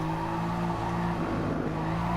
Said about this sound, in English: Car slides a bit.